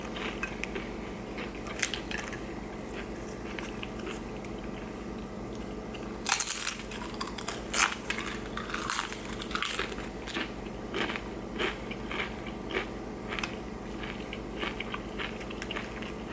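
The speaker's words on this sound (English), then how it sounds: "These chips are super crunchy" Loud, close crunching and chewing of crisp chips, steady bites continuing throughout with no talking.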